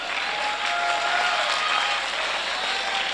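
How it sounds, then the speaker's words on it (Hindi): At a Hindi poetry recital, the audience breaks into loud, dense applause that holds at an even level throughout. Faint whistle-like tones rise above the clapping. "जोरदार तालियां"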